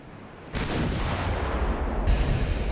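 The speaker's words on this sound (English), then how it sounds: "just turn your ship so all of your guns can fire" Warship guns fire in the naval battle game Ultimate Admiral Dreadnoughts, with a loud boom followed by rumbling that rolls on continuously, and a second blast near the end.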